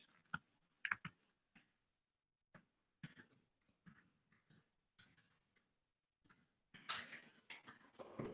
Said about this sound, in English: I don't know if y'all can hear me typing.